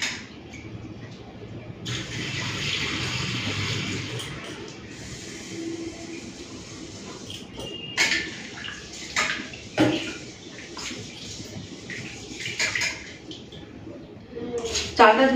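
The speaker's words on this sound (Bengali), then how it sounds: "চালটাকে ভালো করে ধুয়ে নিচ্ছি, 2-4 বার ভালো করে জল পাল্টে পাল্টে চালটাকে ধুয়ে নেব" Rice is washed in water for egg biryani, the water changed several times, with uneven splashing and sloshing bursts close by while a person talks.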